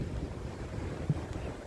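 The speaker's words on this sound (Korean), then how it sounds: "버스 승강장에 부딪히는 바람소리" Gusty wind buffets a seaside bus shelter at night, a steady low rumbling roar with a brief stronger gust near the end, close to the microphone and without voices.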